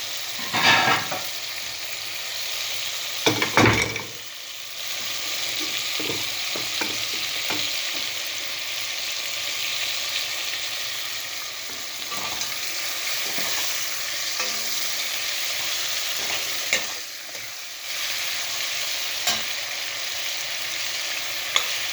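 Steady hot-oil sizzling of thin-sliced liver frying for Albanian-style liver, with occasional louder crackles and stirring scrapes throughout, close and continuous, no voices.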